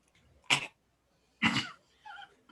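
Two sharp, harsh coughs about a second apart, followed by a softer wheezy throat sound, close by with no talking.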